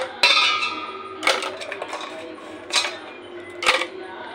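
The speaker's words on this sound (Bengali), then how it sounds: "এবার এর মধ্যে বরফের টুকরো দিয়ে দেবো।" Ice cubes clatter into a mango sherbet, several sharp clinking impacts at irregular intervals with quieter rattles between, close and fairly loud, no speech.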